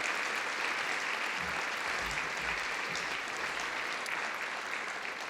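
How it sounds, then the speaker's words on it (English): Loud, sustained applause from an awards ceremony audience, dense uninterrupted clapping filling the room for several seconds with no speech over it. "Let's give a huge big round of applause and a shout out to all of our talented students"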